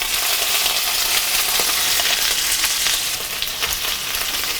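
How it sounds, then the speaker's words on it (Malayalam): Duck pieces shallow frying in hot coconut oil give off a steady, loud, dense sizzle that stays constant throughout, easing slightly near the end, with no voices. "നമുക്ക് ഈ ഫ്രൈ ചെയ്യാനുള്ള ഡക്ക് ഓരോ പീസായിട്ട് ഇട്ട് കൊടുക്കാം."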